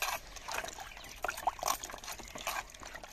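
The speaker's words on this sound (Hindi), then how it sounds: "गाजरों को हमने छील लिया, अभी हमने इनको अच्छी तरह से धोना है।" Peeled carrots being washed by hand in water in a village kitchen, giving irregular splashes, trickles and sloshing that rise and fall in short bursts, close by with no talking.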